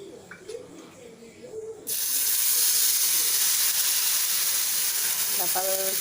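Dosa batter hits a hot oiled griddle and a loud, steady hiss starts abruptly and then holds. Quieter background sounds and a brief chirp come before the sizzle.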